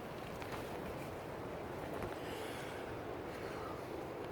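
Steady wind buffets the microphone in a constant broadband rush at an outdoor wild campsite, with no voices.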